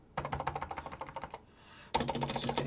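Rapid keystrokes on a Toshiba MSX computer keyboard, close and crisp: a quick burst of clicks, a brief pause, then another dense run of typing.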